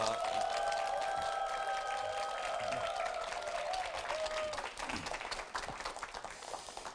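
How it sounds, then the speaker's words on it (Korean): An audience at a televised lecture on disability applauds the lecturer, steady clapping over a lingering tonal hum that thins out and fades in the last couple of seconds. "오늘 강의해 주신 우리 고 선생님한테 다시 한번 박수 부탁합니다"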